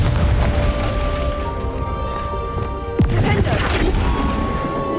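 In Hogwarts Legacy, a Confringo blasting spell goes off as a crashing, booming explosion with a sharp whooshing impact midway, surrounded by dense game sound and effects.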